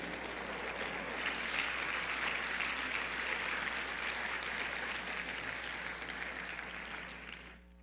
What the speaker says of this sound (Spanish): Dale un aplauso al Rey de Reyes.